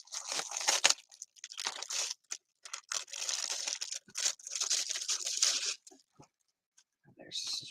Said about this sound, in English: Now I'm going to cut up some of this silver crap.